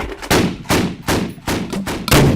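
Militia fighters fire a weapon in a battle against the Islamic State in Iraq, sounding as five sharp, loud reports spaced roughly half a second apart, each ringing out with a short rumbling tail.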